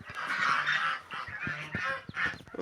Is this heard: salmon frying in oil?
no